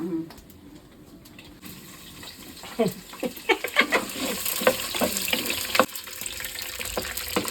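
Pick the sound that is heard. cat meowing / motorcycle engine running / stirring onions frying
stirring onions frying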